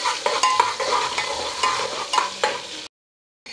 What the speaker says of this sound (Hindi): ऑनियन अच्छी तरह से फ्राई हो गया।